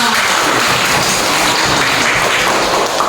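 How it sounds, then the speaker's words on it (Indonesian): A classroom of students claps together during an Islamic studies lesson at a teacher-training session in Banda Aceh, a loud, dense, continuous patter of hands without speech. "Tepuk tangan."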